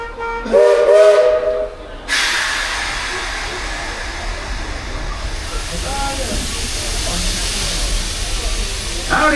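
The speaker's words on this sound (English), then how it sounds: "That whistle from the engine is the all clear." Steam locomotive whistle on the Walt Disney World Railroad, a short loud toot near the start followed by a long hiss of steam venting from the engine, with outdoor crowd ambience underneath.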